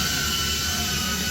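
EMAX Tiny Hawk II FPV racing drone motors spinning up under throttle, a steady loud whining buzz with high tonal hum and broadband whir, continuous and close, no voices.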